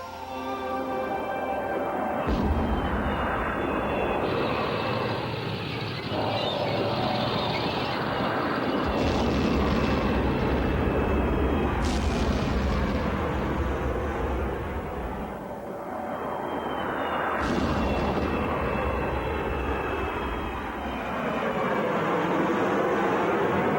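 A Harrier jump jet's engine gives a loud, continuous roar and whine, with sweeping rises and falls in pitch as the aircraft passes, and nothing else breaks through it.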